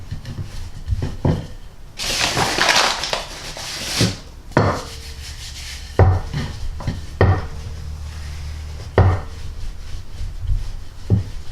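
Leftover apple pie pastry being flattened to about 2 mm, with a scraping rub, then a run of intermittent knocks and taps against a wooden board, near and fairly loud, with no talking.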